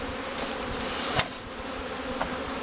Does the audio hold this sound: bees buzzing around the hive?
yes